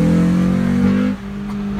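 Honda Civic Si engine pulling hard while racing an SUV on the road, a loud steady drone that holds for about a second, then drops off as the car eases, recorded from inside the cabin.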